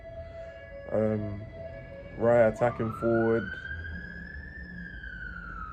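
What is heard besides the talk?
police sirens in London street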